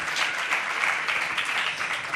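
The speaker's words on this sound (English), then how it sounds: "So give a round of applause for her." Audience applause fills a room during a panel talk on trans identity: steady, dense clapping that is close and fairly loud, with no voices over it.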